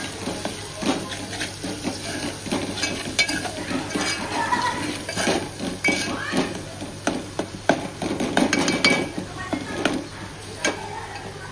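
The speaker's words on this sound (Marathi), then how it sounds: "मसाला व्यवस्थित 2 मिनिटांसाठी शिजवून देऊ।" Spices for dal khichdi cook in a pan, a steady low sizzle under repeated scraping and stirring strokes, close and moderately loud throughout.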